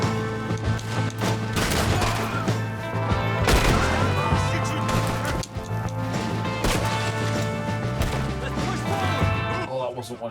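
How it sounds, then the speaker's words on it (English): Red Dead Redemption 2 gunfight, steady volleys of rifle and pistol shots cracking over a droning music bed, some shots close and sharp, others distant, while people shout in between. "We got one shooting from the tower!"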